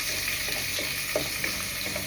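Garlic fries in a hot, dry pot, a dense crackling sizzle with light stirring scrapes, close and steady.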